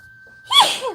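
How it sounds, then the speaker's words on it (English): A single sharp, close sneeze bursts out and fades in about half a second, with a faint steady hum underneath. "Oh, excuse me, I sneezed."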